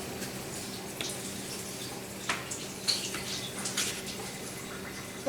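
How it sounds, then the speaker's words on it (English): Water running from a kitchen tap while hands are washed, a steady soft splashing stream with brief drips and clatters, heard fairly close and alone without talk. "Go wash your hands."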